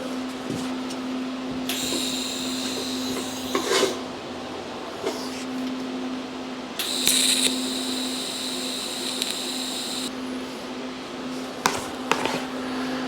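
Tack welds go onto a 1981 Sportster hardtail frame: two separate bursts of harsh, buzzing welding arc, each lasting a few seconds, over a constant low electrical hum with small clanks between them.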